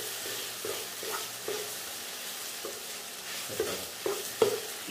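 Whole tomatoes sauté in a pan with a soft continuous sizzle, broken by irregular spatula scrapes and stirring clicks that grow a bit louder toward the end.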